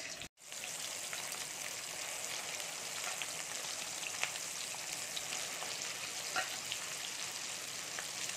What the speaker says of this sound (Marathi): मसाला आपण चांगला तेल सुटेपर्यंत भाजून घेणार आहोत.